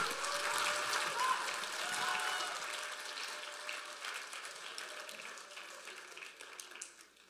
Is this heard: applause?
yes